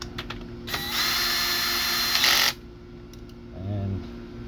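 A power tool whirs steadily for about two seconds while tightening a bolt into the brake line bracket on a Honda Ruckus scooter. It then stops abruptly, followed by a brief low mechanical rattle.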